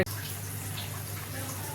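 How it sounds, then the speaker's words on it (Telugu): A glass of water is poured into a pan of okra masala curry, giving a steady, close rushing pour that runs about two seconds without a break. "ఇప్పుడు ఇందులో 1 గ్లాసు నీళ్ళు పోద్దాం"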